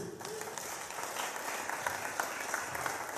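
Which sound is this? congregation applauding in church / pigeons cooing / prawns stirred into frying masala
congregation applauding in church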